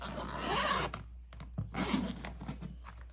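Zipper being worked on a handmade maternity bag during sewing, with a couple of short, quiet rasping pulls up close and faint handling noises in between.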